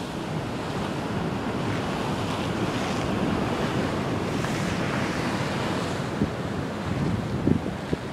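Sea waves wash steadily against the south jetty of Port Ouest at dusk, a continuous loud surf roar with gusting wind buffeting the microphone and a few sharper splashes near the end.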